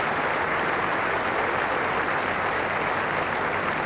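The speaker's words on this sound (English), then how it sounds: "Applause from the England dressing room and from the England supporters." Applause from the England dressing room and supporters at a Test cricket match in Australia, a dense, even patter of clapping from a crowd filling the whole stretch.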